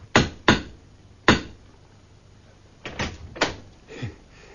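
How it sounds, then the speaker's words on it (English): Knocks on a wooden house door in a Christmas Carol radio drama: a couple of sharp raps, a pause, a single rap, then after a longer gap a few more knocks, close and fairly loud, with no voices. "He passed the door a dozen times before he had the courage to go up and knock, but he made a dash and did it."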